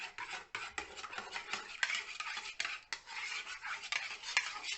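A spoon stirs a tablespoon of yeast into warm water, making quick, continuous scraping and clinking strokes against the bowl. The sound is close and steady, with a rhythmic swish between the clinks.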